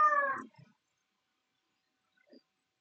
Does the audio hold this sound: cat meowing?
yes